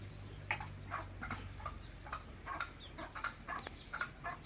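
Free-range F1 jungle fowl cluck in a steady, repeating series of short calls, fairly faint and close, with no talking.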